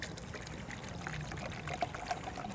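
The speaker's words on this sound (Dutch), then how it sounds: "Ik vul mijn reservoir met een beetje water." Water pours steadily from close by into a plastic PET bottle reservoir for a home plant setup, a continuous splashing trickle with no voices.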